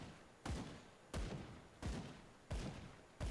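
Gunfire in the action role-playing game Grim Dawn: five evenly spaced shots, each a sharp thump with a short decay, repeating at a slow, steady pace and fairly quiet overall.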